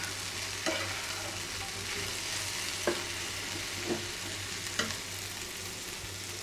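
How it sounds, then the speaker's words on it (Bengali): Ladies finger okra frying in a pan in a home kitchen, a soft steady sizzle with a low hum underneath and four or five light clicks of a stirring spoon spaced across it. "এই যে ঢেঁড়স ভাজি করা হচ্ছে"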